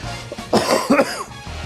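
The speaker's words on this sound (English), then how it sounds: "Gotta get over this cough." Someone on a casual talk show coughs twice in quick succession, close to the mic and loud, with a rough throaty rasp, briefly standing out over a quiet background.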